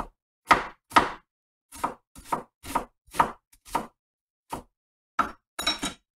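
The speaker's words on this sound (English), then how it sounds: "I bet you've never seen anybody cut vegetables as fast as I cut vegetables" Rapid knife chops through onion and other vegetables on a cutting board, a dozen or so crisp, close, evenly spaced strikes with brief gaps, quickening into a flurry at the end.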